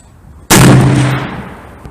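A single .460 Smith & Wesson gunshot at target practice over 25 yards: one sharp, loud, close blast that rings out and decays over about a second, with no talking.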